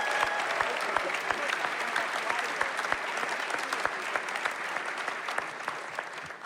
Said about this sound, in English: How about another round of applause for these amazing women?